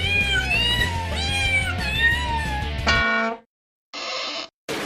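Kitten meows from the You Don't Know Jack video game, a couple of short, bright mewing calls over game music, followed by a clipped burst and brief pauses.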